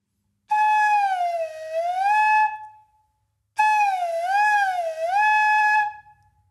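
Flute head joint blown steadily while a finger slides in and out of its open end, giving two wavering, swooping whistle tones like a slide whistle toy, each about two seconds long, with a short gap between them.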